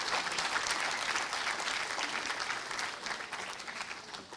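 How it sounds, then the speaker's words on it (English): An audience claps at the inaugural ceremony of the Jagran Film Festival 2024, a full hall of sustained applause that slowly thins toward the end, with no talk over it. "these claps won't suffice. Let's give him a rousing applause."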